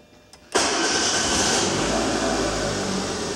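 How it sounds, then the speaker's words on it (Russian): Daewoo Matiz car engine being started: a brief starter crank, then the small engine catches abruptly and settles into a loud, steady close-up idle with no talking. "Поэтому я думаю, она и без сигналки заведется."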